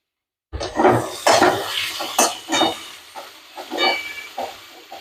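Onions being fried and stirred in a pan with a pinch of salt, giving close clinks and scrapes of a utensil against the metal over a soft sizzle, in uneven bursts.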